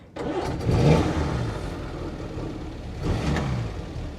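A 1950s Fordson E83W Utilicon van engine, with a little choke, cranks and fires into a close, rising idle, with a brief second surge of revs a few seconds later.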